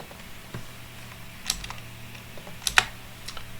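Computer keyboard keys tapped while typing backticks around a class name in code, a few sparse, near clicks and clacks with quiet gaps between them.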